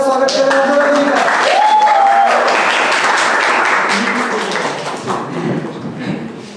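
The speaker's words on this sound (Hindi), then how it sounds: "जोरदार ताली के साथ स्वागत करें" An audience claps loudly to welcome a performer onto the stage at a spoken-word poetry event, a dense, sustained round of applause that slowly tapers, with a voice speaking over it at the start.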